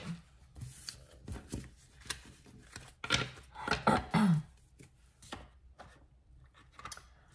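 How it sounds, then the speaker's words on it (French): Tarot cards gathered and tidied on a table by hand, giving a run of soft, close shuffling, tapping and sliding sounds in short irregular bursts, with a busier cluster of handling in the middle. "laissez-moi le temps de ranger mes cartes"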